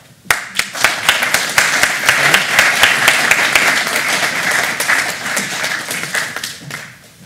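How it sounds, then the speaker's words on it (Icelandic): Sustained audience applause at a tourism cluster meeting in Iceland: dense clapping from a sizeable crowd swells quickly, holds steady for several seconds, then fades out, with no talking over it. "ég vil biðja menn bara að gefa þessum frábæru aðilum eitt gott klapp"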